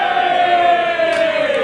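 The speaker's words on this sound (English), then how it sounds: "that's the most noise the Sudbury crowd have made all day" A football crowd at an AFC Sudbury versus Bedford Town match roars in a loud, steady, sustained swell that holds throughout.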